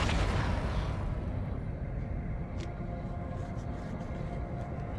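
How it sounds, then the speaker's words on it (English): Long-range weapon fire from a guard ship in EVE Online, rumbling as a heavy low boom that fades from a loud opening into a sustained deep drone, with a few faint sharp ticks over it. "Why is he shooting at me from so far away?"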